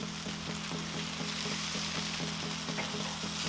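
Grippo's bar-b-q wings sizzling on a Char-Broil Performance Series grill, a steady soft crackling hiss with faint repetitive ticking, quiet and continuous with no talk.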